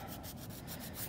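A nail file or buffer roughens fingernails in a continuous, soft rubbing rasp with a quick back-and-forth rhythm, heard close up and fairly faint.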